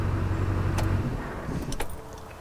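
A Duramax truck engine shuts off, its low idle rumble cutting out, followed by a few light metallic clicks and jingles of keys close by.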